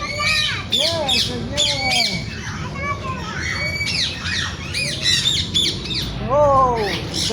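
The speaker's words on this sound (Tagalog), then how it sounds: "Oh, that's a parrot." Parrots squawk repeatedly in a wildlife park, loud harsh calls arriving in quick bursts close by, with other birds and people talking in the background.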